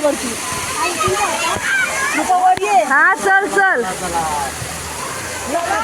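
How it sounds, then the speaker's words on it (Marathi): A small waterfall in a residential colony rushes steadily after heavy rain, a constant close roar of falling water while several people, including children, talk and call out over it. "आमच्या बिहारचे मधला मिनी धबधबा"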